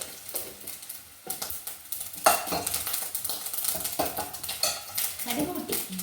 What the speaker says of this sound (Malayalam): ഇച്ചിരി കടുകിട്ട് പൊട്ടിക്കാം